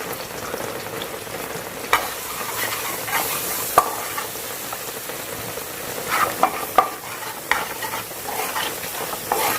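Crushed ginger and garlic frying with curry leaves in hot oil, a steady close sizzle with occasional louder spits and pops, plus a few scrapes of stirring.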